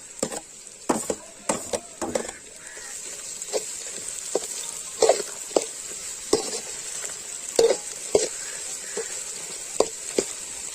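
Onions and tomato sauté in a pan with a soft, steady sizzle beneath frequent sharp knocks and scrapes of a spatula stirring, irregular and close, with no talking.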